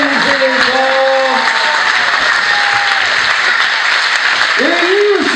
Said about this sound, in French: Applaudissez fort.